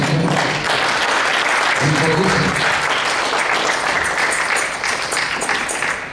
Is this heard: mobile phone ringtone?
no